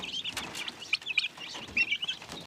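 Many chicks peep and cheep in a busy, overlapping chorus close by, with soft shuffling underneath.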